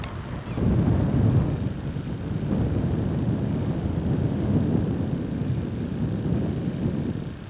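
Cold wind blows hard across the microphone on a mountain pass in northern Norway in 1992, a steady low roaring buffet that swells and holds throughout with no speech.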